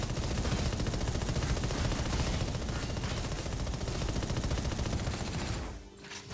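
Sustained rapid automatic gunfire in a mech video game, loud and continuous for about six seconds, a dense rattling barrage that cuts off abruptly near the end.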